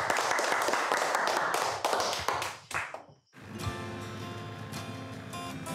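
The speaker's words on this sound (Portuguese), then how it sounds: "vamos dar uma salva de palmas bem forte para os pessoal" Enthusiastic applause from a class group at a clean-water event, dense and steady for about three seconds before cutting out, followed by quieter background sound.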